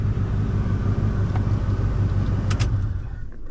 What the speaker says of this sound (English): There you go. The car starts. That means the fuel pump is fine.